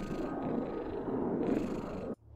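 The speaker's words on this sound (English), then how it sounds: "Is that a cat?" A cat purring straight into a game chat microphone, a steady close rumbling drone that fills the line, with faint hiss around it, then cuts off abruptly near the end.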